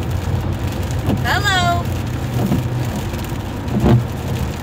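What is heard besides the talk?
rain on a moving car with wipers running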